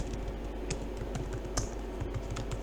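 Keys tapped on a computer keyboard during web design coding work, faint irregular clicks over a steady low hum of room noise, with no one speaking.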